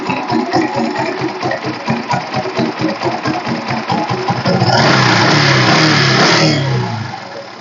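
A 2013 Bajaj Discover 100T motorcycle engine runs close and loud, with a steady pulsing idle that rises into a brief rev before settling again.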